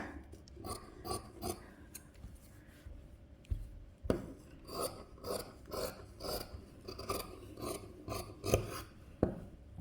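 Scissors trimming extra fabric off a sewn nightie, a series of rough rasping snips and rubbing strokes in uneven bursts, close by and quiet, with no voices.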